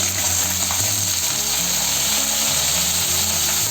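Okra (bhindi) hitting a hot pan and frying with a steady, loud, continuous sizzle and hiss that holds level throughout, with no voices.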